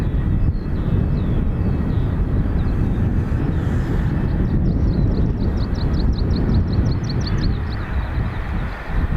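An American Airlines Boeing Dreamliner jet departs Dublin Airport with a loud, broad engine rumble mixed with wind buffeting, and chirping birds are heard faintly over it.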